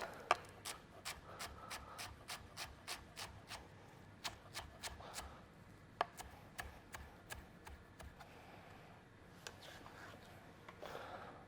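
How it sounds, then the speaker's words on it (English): Fresh coriander is finely chopped on a cutting board, a rapid run of crisp knife taps in quick regular bursts with short pauses between them, close and fairly quiet. "Then we'll just finely chop some coriander."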